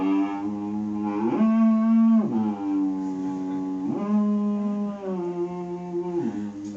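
A wavering electronic theremin-like tone, seemingly voiced in imitation: loud, buzzy pitches that hold, then swoop up and down in slow glides, with no speech over it.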